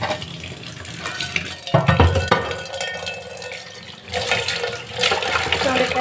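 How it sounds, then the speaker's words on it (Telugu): Running water splashes steadily over a dosa pan as it is rinsed, with a brief clatter partway through and the flow swelling louder again near the end. "ఇప్పుడైతే ఒకసారి కడిగేసి చూస్తాను మీకు"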